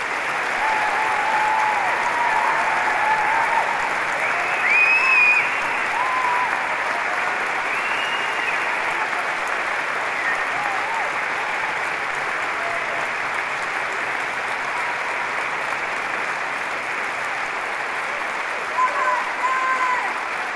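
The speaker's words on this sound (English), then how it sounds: "let's start today's ceremony by giving all of our amazing graduates a huge round of applause" Open University graduates receive sustained applause from a large audience at a degree ceremony in Edinburgh, with an even, dense wash of clapping that holds steady for about twenty seconds.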